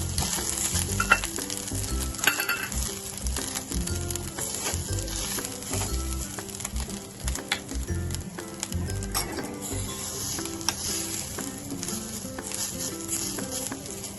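Grated coconut and flour roasting in ghee for ukadiche modak filling, stirred steadily, with a soft continuous sizzle and scraping close by over a low background hum, no talking.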